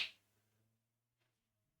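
One sharp hand clap, made as an audio sync test during a game recording, opens the clip and leaves a faint low hum behind it.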